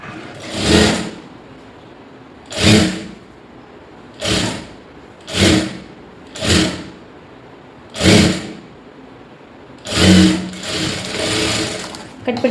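A sewing machine stitches a blouse lining in seven separate loud bursts with short pauses between them, the last bursts running a little longer.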